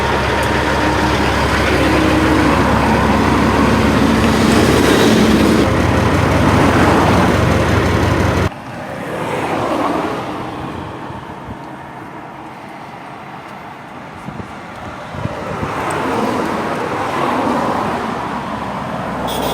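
A Kenworth W900 truck with a Cat C15 engine and four mufflers roars loud and close, a dense steady engine blast that cuts abruptly halfway through to a lower, rougher rumble with passing swells.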